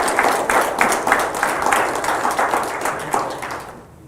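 A church congregation claps together in a loud, rhythmic burst of applause that pulses in a steady beat, then tapers off and fades out.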